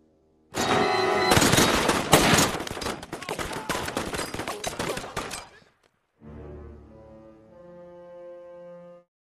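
Rapid bursts of gunfire crack loudly and densely for about five seconds, like a close fusillade of soldiers and residents being shot, then cut off abruptly before a quieter, tonal droning sound follows.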